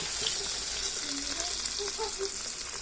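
Sardines frying in a pan with tomato as they are stirred, a steady close hiss and crackle of hot oil throughout with faint scraping of the stirring underneath.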